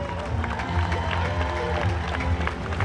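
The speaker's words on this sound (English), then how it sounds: "join me in a big, huge round of applause for your 2026 United States Junior Pan Pacific qualifiers" An arena crowd applauding the United States Junior Pan Pacific swim team at a national swimming championship, dense sustained clapping with some cheers, fairly loud and continuous throughout.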